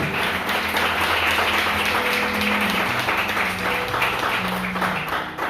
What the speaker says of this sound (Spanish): Denle un aplauso a Jesús en esta tarde